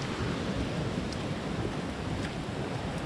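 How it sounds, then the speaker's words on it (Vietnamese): Water rushes loudly and steadily through a rain-soaked maize field, a dense continuous roar with no breaks or voices. "Cái nước ở trong này ồn lắm."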